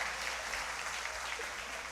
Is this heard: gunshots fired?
no